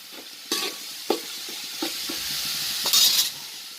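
Ginger-garlic paste is stir-fried in a pan for mutton biryani, a steady sizzle and hiss punctuated by several metallic scrapes and knocks of the spoon against the pan.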